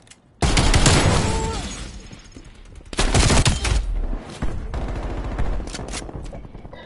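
DMR rifle fire in Call of Duty Black Ops Cold War, loud bursts of rapid shots that start abruptly, pause, then return in heavier volleys with booming echoes.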